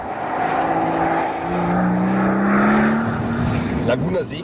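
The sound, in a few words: Mercedes SL 65 AMG Black Series setting off on track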